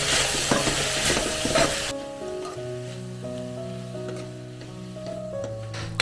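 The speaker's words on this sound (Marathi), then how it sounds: "ह्यातच आपण कोबी टाकून घेऊया आता तो भी चांगला परतून घेऊया" Shredded cabbage stirred and sautéed in a pan over low gas for a yellow Maharashtrian cabbage bhaji, a loud sizzle and scraping stir at the start that settles into a quieter steady fry under soft tonal background music.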